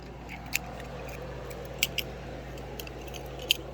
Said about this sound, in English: My Ford keys.